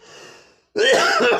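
Coughing from someone with a cold, a faint hoarse breath followed by a brief pause and then a loud, close, rasping cough burst.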